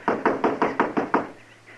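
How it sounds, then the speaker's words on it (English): Seven firm knocks on a wooden door in a quick, even rhythm, close and loud, followed by quiet. "Go ahead and knock."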